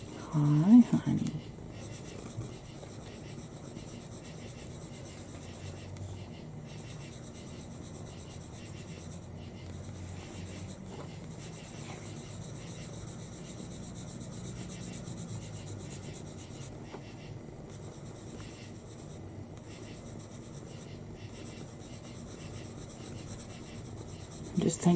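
A pencil draws on paper for a colour portrait, a continuous close, soft scratching and rubbing with brief pauses, under occasional quiet talk.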